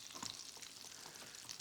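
Asparagus fries sizzle and crackle steadily in a frying pan of hot oil, a close, continuous hiss with small pops and stirring, no voices.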